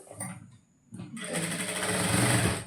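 Close and loud, a sewing machine stitches a blouse in a steady run that builds after a brief pause, with a short burst of talk just before the stitching starts.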